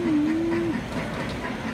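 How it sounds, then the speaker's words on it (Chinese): Children's ride-on toy train moving through a department store, a low rolling rumble with a brief tonal whistle or horn at the start, steady and fairly close, no speech. "火车哦，要不要按一下？"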